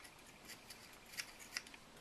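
Brown polymer clay is pushed through a small plate with holes and cut off in pieces for dollhouse-scale miniature apples. Two faint, crisp snips stand out against a quiet background, with no talking.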